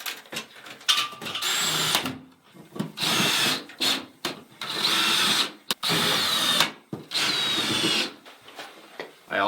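A power drill driving screws whirs in repeated bursts of a second or two each, separated by short pauses, close by, with faint handling noise between runs.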